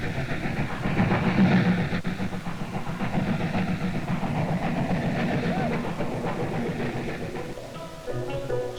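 Train running along a railway track, a steady rumbling rattle with faint clatter throughout, fairly close and continuous, with a narrator's voice over it.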